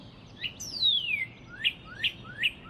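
A small bird calls nearby: one long, sliding whistle that falls in pitch, then four short, bright chirps spaced evenly, clear against a quiet background.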